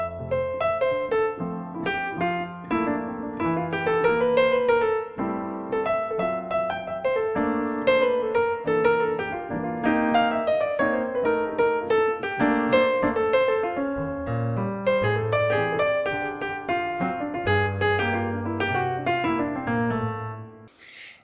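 Solo piano plays a lively swinging passage with a bouncing left-hand bass and busy right-hand melody, steady and close for about twenty seconds.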